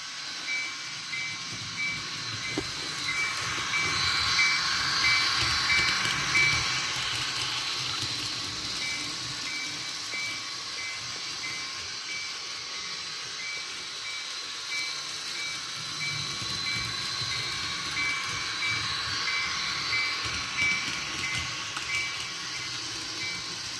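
N scale DCC model train sound effects from a small locomotive decoder: a quiet, continuous hiss and rumble like steam and rolling rail, with faint metallic tones and a steady wash lasting over twenty seconds, no talking.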